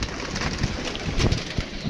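Pigeons coo softly among rustling and gusty wind noise near a rooftop loft, a few low coos rising briefly out of the steady background.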